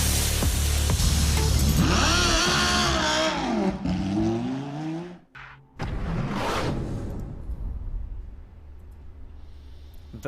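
A Lamborghini Huracan Super Trofeo Evo 2 race car on track, loud engine revving up through gears with tire noise, a brief drop, then another pass whooshing by and fading.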